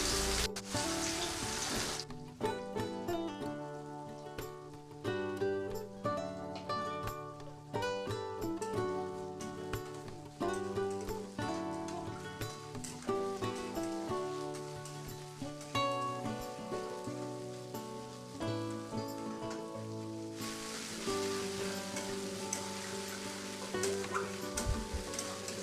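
Onions sizzling in hot oil with bay leaves for biryani, a steady hiss that is loudest at the start and again near the end, with music playing throughout.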